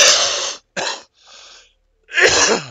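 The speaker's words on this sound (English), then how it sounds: "Sorry about my coughing." A few harsh, explosive coughs or sneeze-like bursts, close and loud, separated by short pauses and a quieter breathy gasp.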